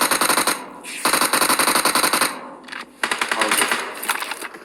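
A UMP submachine gun fires in PUBG Mobile: three loud, rapid automatic bursts with short pauses between, the last one longer and trailing off.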